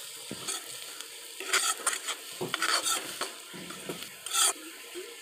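Spices with lemon and dry mango powder cook among vegetables in a pan for a bread snack, a low sizzle under repeated close utensil scrapes and clatters against the pan, with no talking.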